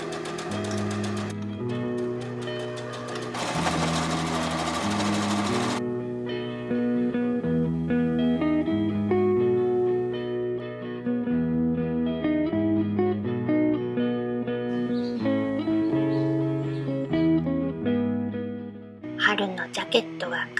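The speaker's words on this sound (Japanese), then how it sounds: "ジャケットだから全部裏は袋縫い、袖も袋縫いにしてつけよう。" A home sewing machine stitching the seams of a lightweight spring jacket, a steady mechanical run largely masked by louder melodic background music throughout.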